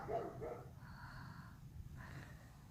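A dog barks a few times at a distance in a backyard garden, the faint yaps spaced out over a quiet outdoor background.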